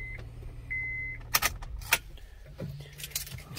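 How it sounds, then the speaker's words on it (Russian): Keys jangle and click close by and a short beep sounds, then a 2008 Honda CR-V engine turns over and settles into a low, steady idle. "машина заводится."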